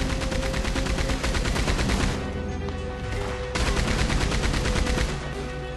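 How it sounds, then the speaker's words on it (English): Rapid, continuous gunfire from Red Dead Redemption 2, shots fired into woods in dense, evenly spaced bursts, loud and close, with a brief lull near the middle before the firing resumes. "I'm just kind of shooting the woods here at this point"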